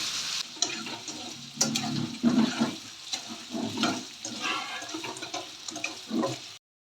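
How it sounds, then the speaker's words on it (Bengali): Chopped garlic fries and sizzles in hot oil in a pan while being stirred, a steady crackling hiss with scraping at close range. "বাকলি সেইখিনি অলপ আৰু ফ্ৰাই কৰি লওঁ"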